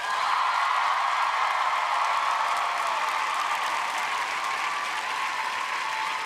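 A large audience breaks into sustained applause, dense steady clapping that holds at full strength for several seconds, rising to a peak early and then easing slightly, with no voices standing out above it.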